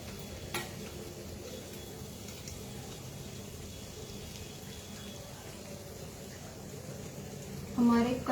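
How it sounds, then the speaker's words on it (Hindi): Kachori dough balls deep-frying in hot oil give a steady, low bubbling sizzle throughout, with a brief knock near the start and a louder clatter at the end. "हमारे कचौड़ी के बॉल्स फ्राई होके रेडी हो गए हैं।"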